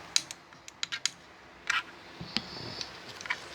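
A spoon scrapes stuck residue from the inside of a triops aquarium, producing a quick series of close, dry clicks and short scratchy scrapes at an irregular rhythm.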